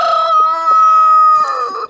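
A rooster crows up close and loud on an Australian homestead, one of a pair, a black Australorp and a buff Sussex. It is a single long, harmonic cock-a-doodle-doo with a few clucks before it.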